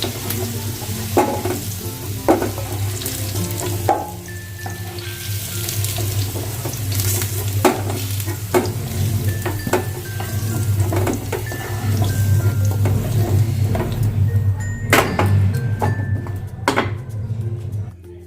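Potatoes fried in a wok for a boal fish kalia, with a steady loud sizzle and repeated clinks and scrapes of a ladle as they are lifted out, the bubbling oil continuing throughout.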